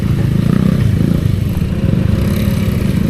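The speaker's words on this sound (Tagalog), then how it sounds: "Buti na lang nagmotor tayo." A motorcycle ridden on roads near Puerto Princesa gives off a steady low engine drone mixed with wind rumble, loud and continuous throughout with no talk.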